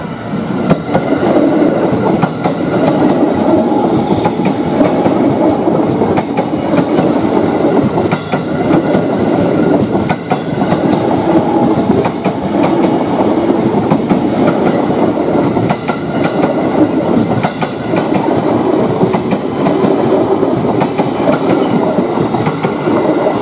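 Commuter electric train (KRL) passing on the Depok line, a steady loud rumble of railcars with rhythmic clickety-clack of wheels over rail joints throughout, no talking.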